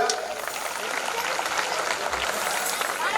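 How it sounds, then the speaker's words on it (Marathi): Audience at a school students' cultural performance applauding, a dense crowd clapping blended with voices and hall noise. "सर्वच विद्यार्थ्यांसाठी पुन्हा एकदा जोरदार टाळ्या वाजवू द्या"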